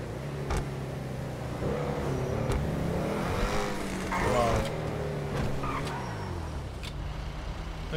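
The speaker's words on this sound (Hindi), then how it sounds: "ये ऑडी R8 स्पेशल, और इसकी आवाज़" Audi R8 engine in the video game GTA 5 revving and running at speed, a continuous mid-level motor drone with rising pitch sweeps, heard with some tyre noise and a faint voice over it.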